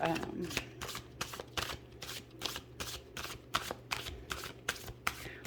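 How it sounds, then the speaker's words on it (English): Tarot cards are shuffled close up in a quick, repeated riffling rhythm, with a voice talking faintly underneath. "So let's pull some tarot for Joanie, just to get some clarifiers"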